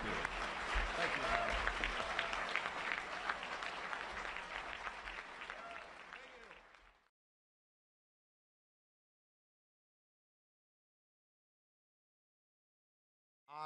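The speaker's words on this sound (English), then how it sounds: "How about a warm round of applause for Herman Cain?" An audience at a Herman Cain event breaks into sustained applause, dense clapping that holds for several seconds, then fades and cuts to silence.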